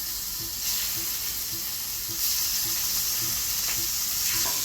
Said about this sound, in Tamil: இப்போ நம்ம மேரினேட் பண்ணி வச்சுருந்தா சிக்கனை நம்ம போட்டு ஃப்ரை பண்ணிக்கலாம்.